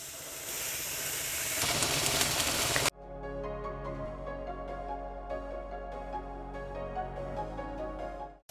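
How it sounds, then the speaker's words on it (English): A raw steak hits a hot pan with a loud, broad hiss of searing that runs for about three seconds and then cuts off abruptly, giving way to a steady humming tone. "When you first put that raw steak onto the hot pan"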